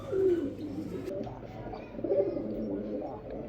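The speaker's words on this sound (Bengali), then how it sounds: "যতগুলো কবুতর দেখাইতেছি আপনাদেরকে ফুল অ্যাক্টিভ কবুতর দেখাচ্ছি ইনশাল্লাহ" Pigeons cooing close by at a bird-selling spot, low throaty rolling coos repeating over a murmur of background noise.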